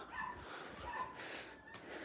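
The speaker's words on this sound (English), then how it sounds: "Sorry about the dogs yapping upstairs." Small dogs yap and whimper from upstairs, a few muffled, faint barks heard through the ceiling indoors over quiet room tone.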